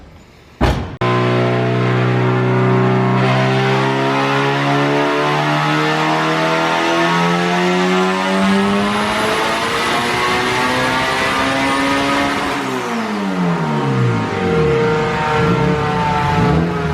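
A boosted Honda Civic on big tires accelerating hard in third gear, with a loud, close engine note that climbs steadily in pitch before the revs drop and settle near the end.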